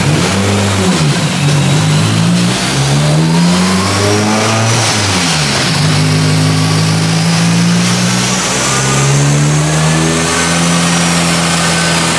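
A Mitsubishi Lancer engine, converted from front-wheel to rear-wheel drive, revs hard on a dyno, its pitch rising and falling through repeated pulls, loud and continuous.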